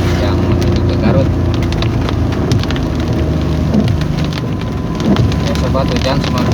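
Heavy tropical rain drums steadily on a car's roof and windows on the road from Cileunyi to Garut via Cijapati, a dense, continuous patter with a low rumble and no break.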